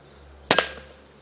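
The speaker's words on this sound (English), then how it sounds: "That's the sound of a pellet hit in the head." A single sharp crack followed by a brief secondary knock, short and fairly near, standing alone against quiet background hum.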